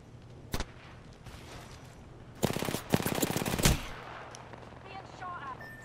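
Apex Legends gunfire: a short burst of shots rings out, then after a pause comes a longer, loud stretch of rapid automatic fire that cuts off abruptly. Faint background game sounds continue underneath.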